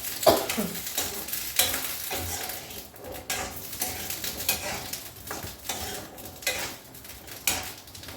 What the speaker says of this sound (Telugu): ఆయిల్ వేసాను ఇప్పుడు ఈ కాయలు వేసేసుకున్నాను